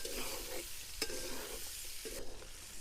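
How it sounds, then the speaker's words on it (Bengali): Chopped onions fry in a pan while a spatula stirs them, repeated scraping strokes over a soft sizzle, close and quiet, with no voices. "এবার পেঁয়াজগুলা খুব ভালোভাবে একটু নাড়িচাড়ি নিব।"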